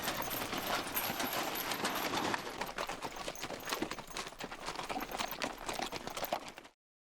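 Horses' hooves clip-clopping on the trail at Petra, a brisk, irregular stream of hoof strikes close by, moderately loud and continuous before cutting off abruptly.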